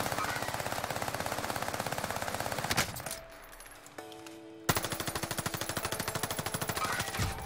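Rapid bursts of MP40 submachine gun fire in Call of Duty Warzone on Rebirth Island, loud and continuous with a short lull of quieter game sounds in the middle before the automatic fire resumes.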